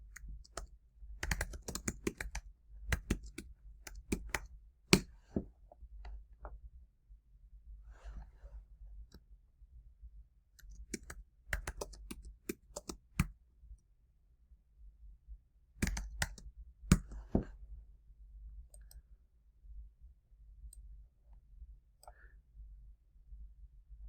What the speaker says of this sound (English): Let me try that again by actually typing it in correctly.